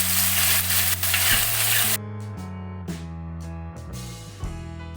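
Spice paste frying in a pan, a loud dense sizzle for the first two seconds, then the hiss cuts away and music with steady notes takes over for the rest.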